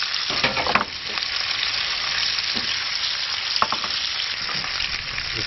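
Fish, freshly caught tailor, sizzling and frying in a slightly too-small fry pan at a backyard cook-up, a steady loud crackling hiss with occasional sharper pops and stirring scrapes.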